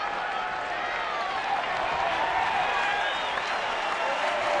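A stadium crowd at a Pittsburgh–San Francisco baseball game applauds a player, with a continuous broad roar of clapping and cheering heard from a distance throughout.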